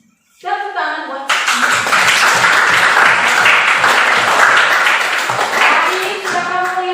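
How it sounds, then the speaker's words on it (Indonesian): A classroom bursts into applause, a dense, loud wash of many hands clapping that holds steady for several seconds after a short spoken line at the start. "Tepuk tangan buat"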